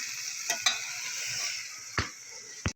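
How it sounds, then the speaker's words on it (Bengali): Vegetable curry stirred in a pan over a soft steady sizzle, with a few distinct scrapes and knocks of the utensil against the pan, close and fairly quiet. "চলো সামনে তরকারিতে এতে নাড়তে নাড়তে জল বেরিয়ে যায়"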